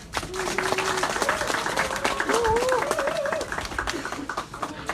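Steady applause from a crowd at a press conference fills the room, moderately loud and continuous, with a voice briefly audible over the clapping.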